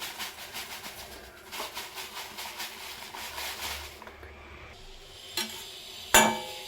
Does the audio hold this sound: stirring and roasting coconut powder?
yes